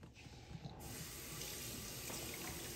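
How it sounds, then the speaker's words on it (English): Juice is poured into a cup as a steady, quiet liquid stream that starts softly and settles into a continuous close trickle. "Okay, ready? Pour it all in there, okay?"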